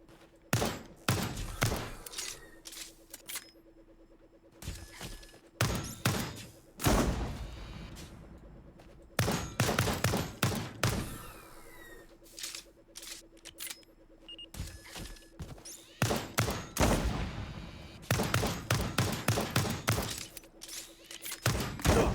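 Gunfire in the game Lost Skies aimed at metal contraptions: repeated loud bursts of shooting in clusters separated by short quieter gaps, with a faint steady hum beneath.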